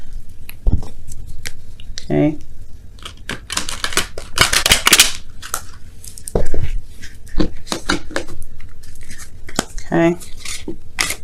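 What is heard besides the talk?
shuffling tarot cards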